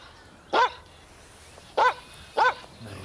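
Three sharp dog barks ring out, fairly near and loud, one alone at the start and then a closer pair, spaced over a few seconds against a quiet background.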